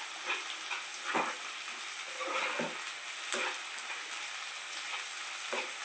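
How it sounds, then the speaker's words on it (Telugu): Onions with green chillies and curry leaves fry in a pan for a chana dal and coconut dish, giving a constant close sizzle broken by several scraping stirs of a spoon, with no talk. "పచ్చిమిరపకాయలు, కొద్దిగా కరివేపాకు వేసుకుందాం. మళ్ళీ ఒక 2 నిమిషాలు బాగా ఫ్రై చేసుకుందామండి."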